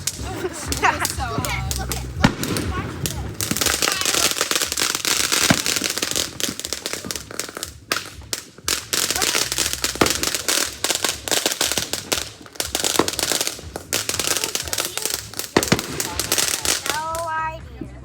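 A fireworks shower is lit and goes off, loud crackling bursts and sharp popping spreading continuously over about eighteen seconds with short gaps, close by, while people talk faintly in between.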